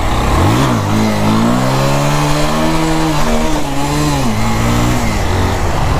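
Used 220 cc motorcycle engine revving hard during a wheelie attempt, loud and close, with the pitch rising and holding steady as the throttle stays open, then easing slightly toward the end.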